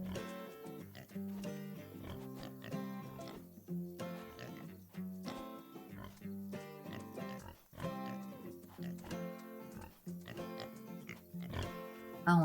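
Pigs grunting and oinking steadily on a pig farm in the farming game Farm Together, a faint, continuous chorus of snorts and squeals.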